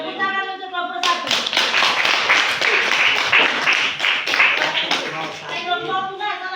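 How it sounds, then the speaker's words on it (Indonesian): Classroom applause for a student group as children clap in a quick, close, loud burst lasting several seconds, bracketed by brief voices before and after. "tepuk tangan untuk kelompok 1"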